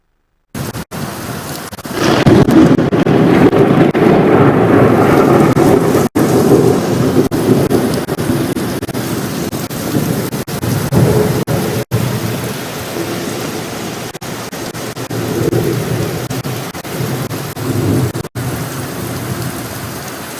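Heavy thunderstorm with torrential rain during the early-morning hours, a steady loud roar of downpour with deep rolling thunder rumbling through, no voices.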